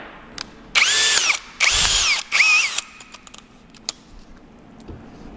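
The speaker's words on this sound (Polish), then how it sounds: "przejdźmy teraz może do jakiegoś wiercenia, które też chciałbym Wam pokazać" A Högert power drill revs in three short, loud bursts in quick succession in a workshop, followed by scattered light clicks and taps.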